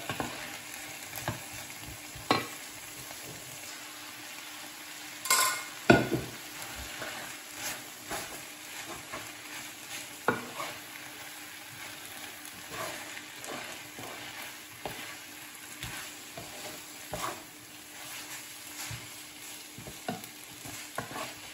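Noodles stir-fried with frozen vegetables sizzle steadily in a hot pan, with repeated scraping and stirring clatters close by and no talk.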